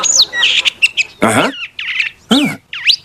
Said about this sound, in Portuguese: um pássaro cantor enviado pelo Bud avisa eles que a Força Danger foi capturada pela célula